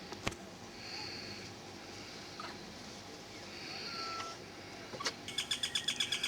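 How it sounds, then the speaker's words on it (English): A myna bird calling near food scraps on Tioman island, a few faint chirps and whistles over quiet outdoor background, closing with a quick run of sharp repeated notes. "A minor bird here to try and pick up the scraps."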